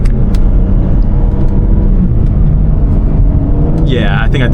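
BMW M3 Competition engine driven on a street, rumbling steadily up close with a continuous low growl, then a rising whine and revving as the gearbox downshifts near the end.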